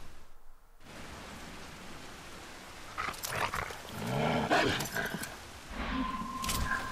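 A dog in the Resident Evil 6 video game, chased through a cemetery, growls and scuffles in bursts over a constant rain-like hiss, the animal sounds appearing partway through and staying moderately loud.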